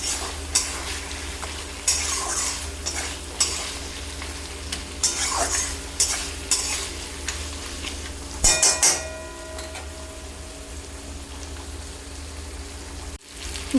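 Rohu fish heads frying in a pan with potato and eggplant, crushed by a spatula in a steady close sizzle, with repeated scraping strokes and a burst of clatter near the end and no one talking.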